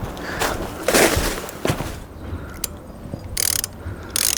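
A socket wrench ratchets as a bolt is driven into a soft cinder block for a haphazard fence, giving bursts of close clicking and mechanical grinding with short pauses between turns.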